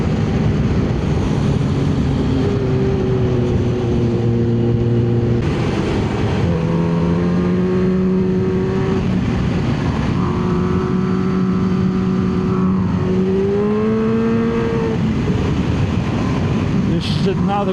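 A Kawasaki Ninja H2 motorcycle engine while cornering on an open road, loud and close, its pitch sweeping up and down through rises and falls as the rider rolls on and off the throttle, with steady wind roar underneath.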